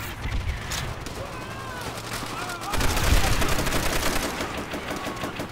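Gunfire from a rifle in the PC game Call of Duty: World at War, rattling throughout in dense bursts over a busy battlefield bed, getting louder and more intense partway through.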